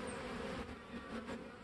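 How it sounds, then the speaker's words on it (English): A honeybee swarm drones in a steady, dense buzz of many wings, close by and continuous, with no voices over it. "And this is the first swarm."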